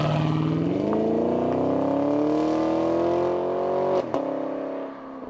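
A loud engine revs steadily upward in pitch for several seconds, with a sharp gear-change blip near the end before the sound eases off.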